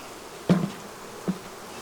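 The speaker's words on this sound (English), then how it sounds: "This is a strong hive." Honeybees from a strong hive buzz close by, with two brief buzzy passes over a low, steady background hum.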